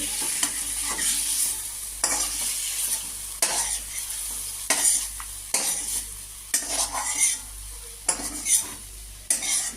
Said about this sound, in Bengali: চিংড়িগুলো নেড়ে চেড়ে সামান্য ভাজবো বেশি ভাজবো না